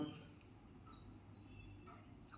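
Faint, distant bird chirps, a few short high tweets scattered over a quiet outdoor hush.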